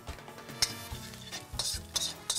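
Garlic sautéing in hot oil in a pan, with soft sizzling under repeated scraping and stirring clinks of a utensil against the pan, close and fairly loud, no voices.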